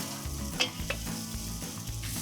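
Eggplant and potato pieces frying in olive oil for a Greek braise, giving a dense, continuous sizzle with a few sharp utensil clicks over it and no talking.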